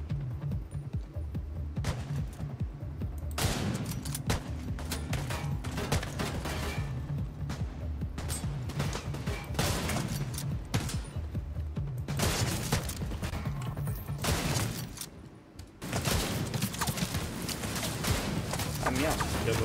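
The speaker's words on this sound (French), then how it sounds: "j'ai tiré juste avec mon flingue" Gunfire in the shooter game The Division 2, dense bursts of shots and impacts over a loud, busy mix of game effects that runs almost continuously with brief lulls.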